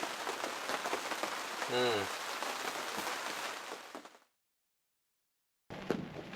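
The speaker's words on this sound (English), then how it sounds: "It's been raining all night, at times very hard." Steady dense patter of rain drumming on a tent surface at a campground, continuous and close, with one brief whistling streak; it cuts to silence, then resumes.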